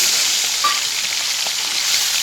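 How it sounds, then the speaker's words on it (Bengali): Small shrimp fry in hot oil, giving a steady, close, continuous sizzling hiss with faint crackles throughout. "তেল গরম হয়ে গেছে এবার আমি চিংড়ি মাছটা কিন্তু ভাজার জন্য দিয়ে"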